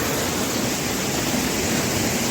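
Fast-flowing glacier meltwater rushes loudly and steadily on the trek to Hemkunt Sahib in the Himalayas, a constant dense roar with no voices over it.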